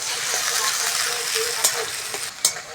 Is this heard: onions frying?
yes